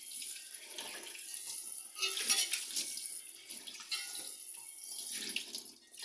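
A cast iron dosa tava being washed under a running kitchen tap, water splashing steadily and unevenly over the metal for several seconds, with no voices.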